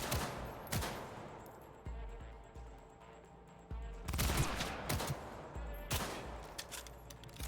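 Rapid automatic gunfire in the Cyberpunk video game, dense bursts of shots with brief lulls between, loud and close, no talk over it.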